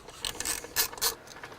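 Ratchet loosening a 10mm bolt on a Honda Accord 2.4L starter bracket: a few short, close clicking and rasping bursts with brief pauses, with no talking.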